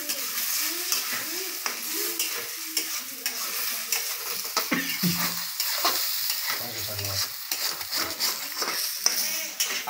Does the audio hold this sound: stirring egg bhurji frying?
yes